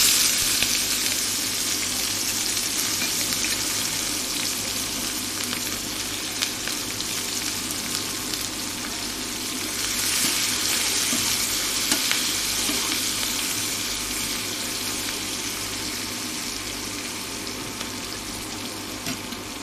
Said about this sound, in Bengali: পেঁয়াজটা এরকম হালকা ভাজা হয়ে গেলে